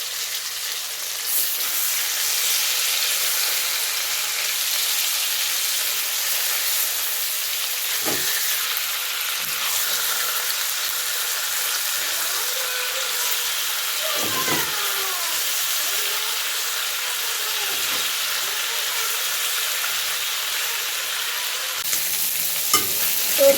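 Rohu fish pieces frying in a pan of hot oil, a steady loud sizzle running throughout with occasional soft scrapes and clinks of stirring.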